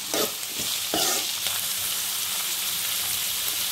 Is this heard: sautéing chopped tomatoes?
yes